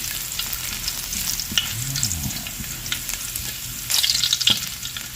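Garlic sautéing in a hot pan, with a steady close sizzle, stirring scrapes and a louder burst of frying partway through, and no voices.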